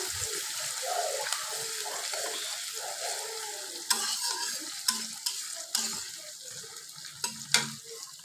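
Chopped onions sizzle and fry in a pan for a quail bhuna, with steady hiss, stirring scrapes and occasional sharp clinks of a utensil against the pan, close and moderately loud.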